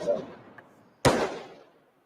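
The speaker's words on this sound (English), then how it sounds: "It's fireworks." Fireworks bang once sharply and loudly in a clip of Cop City protest unrest outside the Atlanta Police Foundation building in downtown Atlanta, with a crackling tail fading over the following second after quieter low murmuring.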